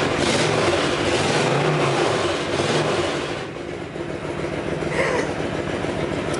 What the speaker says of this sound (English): Got the idle turned up a little bit because it is winter, like I said, and she is cold